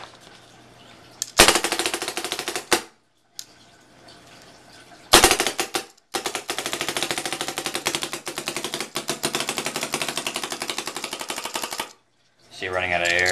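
An Invert Mini paintball marker rips off rapid full-auto bursts on air with no paint, a loud dense rattle of shots in long runs separated by pauses, ending in a softer hissing burst as the air runs low.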